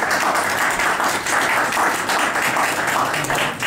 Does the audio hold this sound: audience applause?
yes